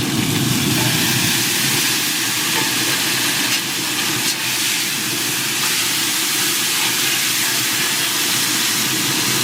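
Smashburgers seasoned with Charlie Choice sizzling on a Grilla Grills Silverbac griddle just after flipping, a loud, steady broadband hiss and crackle throughout.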